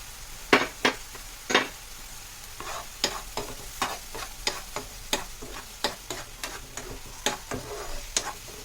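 Ground tomato paste poured into hot oil for an eggplant curry, with a soft continuous sizzle broken by a series of sharp spoon scrapes and clinks against the pan at an uneven rhythm, close and clear.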